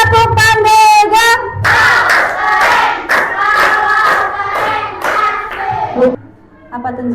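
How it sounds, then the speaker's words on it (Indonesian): A class of schoolchildren claps out the rhythmic tepuk pandega chant in an Indonesian primary classroom. Loud, sharp bursts of hand claps are mixed with the children's voices chanting together, followed by a brief pause and a final clap. "Oke, tepuk pandega."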